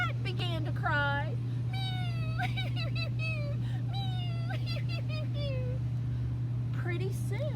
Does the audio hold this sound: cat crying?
yes